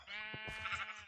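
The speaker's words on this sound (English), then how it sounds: "Sheep." Sheep in the Minecraft video game gives a short, wavering bleat, close and clear and heard alone with no talk over it.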